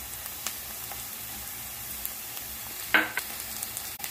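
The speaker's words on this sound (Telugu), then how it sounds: "ముందుగా నానబెట్టుకున్న గ్రీన్ పీస్ బఠానీని వేయించుకుంటున్నాం" Soaked green peas frying in a pan for vegetable fried rice, a steady soft sizzle with light stirring clicks and one brief louder scrape, no talking.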